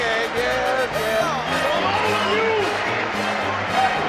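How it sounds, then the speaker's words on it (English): Boxing arena crowd in Rocky cheering and whooping throughout, a dense roar of many voices with rising shouts, and a voice talking over it. "And the crowd is loving every minute of it."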